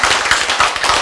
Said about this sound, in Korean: 박수 한번 하죠, 그렇죠?